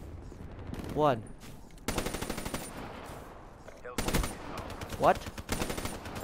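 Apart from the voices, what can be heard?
gunfire in a shooter video game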